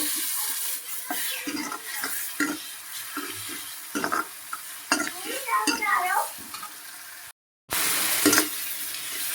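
Ground spices with turmeric and coriander frying in a pan in a village home kitchen, a soft sizzle under repeated scraping stirs and clinks, with a brief dropout near the end.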